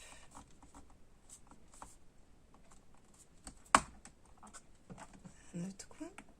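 A pocket punch board trims a paper corner with one sharp, loud snap in the middle, set among soft paper rustles and handling taps in a quiet room.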